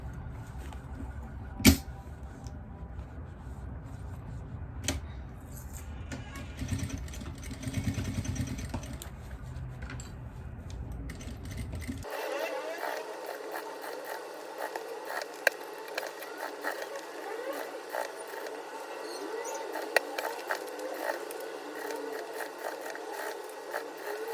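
A sewing machine stitches a heart-shaped jewelry box, producing a steady mechanical whirr with a rapid rattling rhythm and a few sharp clicks, continuing throughout at a moderate level with no voices.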